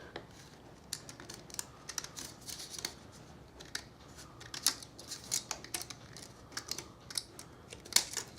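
Scissors snipping through a plastic Subway cup near the lid, a run of sharp, crisp clicks and crunches at an uneven pace, close and moderately quiet.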